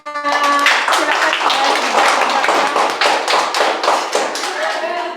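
A group of children clap together in a classroom gathering, a dense burst of sharp, close hand claps running steadily for several seconds while a voice speaks over the start.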